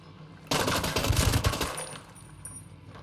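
Sustained automatic gunfire bursts in the tactical shooter Ghost Recon Breakpoint, a dense loud rattle starting abruptly and continuing for a couple of seconds before thinning into scattered shots.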